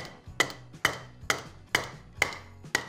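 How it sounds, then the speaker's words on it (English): A hammer's hard face striking a gun's front sight clamped in a vise, six sharp metallic blows at an even, unhurried pace, each ringing briefly and decaying before the next, close up with no talking. "we're gonna use the hard end of this hammer, and we're gonna try not to hit the back sight."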